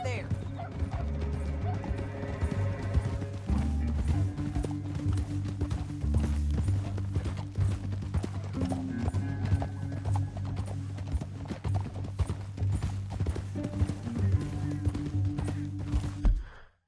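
Horse hooves gallop steadily in Red Dead Redemption 2, a fast continuous clip-clop drumming over a low rumbling score for the whole stretch, with brief in-game voices and other game sounds mixed underneath.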